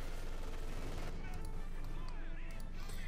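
An MG42 machine gun firing in a Company of Heroes 2 match, a steady rattling fusillade of automatic fire mixed with distant battle noise, running continuously at a moderate level.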